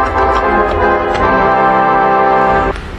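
A loud, brassy chord on the Wurlitzer theatre organ at the Blackpool Opera House, under restoration, sustains for a few seconds with slight shifts in the notes, then cuts off abruptly near the end.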